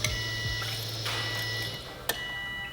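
The fuel pump of a Subaru STI primes as the ignition is keyed on, a steady low electric hum that runs for about two seconds and then stops, followed by a couple of sharp clicks, close and quiet.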